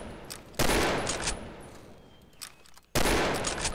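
M24 sniper rifle firing in the Combat Arms video game, two loud sharp shots about two seconds apart, each with a long ringing tail, close and with no talking.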